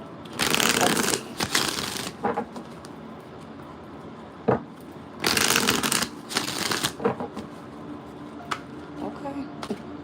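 Tarot cards are shuffled close up in two loud riffling bursts separated by softer card handling and faint taps, with a voice speaking briefly.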